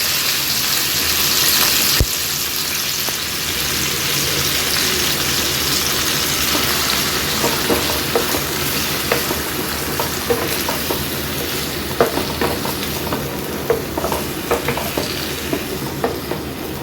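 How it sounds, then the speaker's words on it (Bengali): Potatoes fry in hot oil in a pan, a loud, steady sizzle close by, broken by scraping stirs and light clinks that grow more frequent toward the end, with no voices. "তারপরে আলুগুলোকে একটু ভেজে নেব।"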